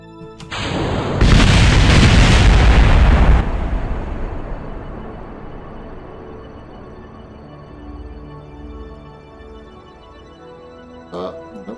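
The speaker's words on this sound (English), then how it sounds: "And fire the missiles." Missiles launched in Kerbal Space Program erupt in a loud, roaring blast lasting a couple of seconds, then fade into a long, decaying rumble under a low mechanical hum, with a short sharp pop near the end.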